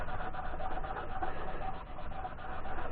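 Close, steady rasping hiss of abrasive paper rubbing against a spinning segmented walnut and osage orange pen blank on a wood lathe, continuous with a faint rhythmic pulsing and no talk.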